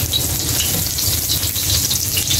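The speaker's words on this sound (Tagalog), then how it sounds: "Gigisa na ang ating bawang." Garlic sautéing in a frying pan, a loud, steady close sizzle of hot oil that runs unbroken throughout with no speech.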